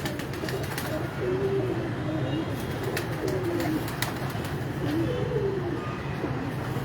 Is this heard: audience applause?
no